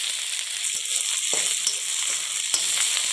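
Mustard seeds, chili, garlic and onion fry in hot oil with a steady, dense sizzle and a few soft stirring knocks, no voices.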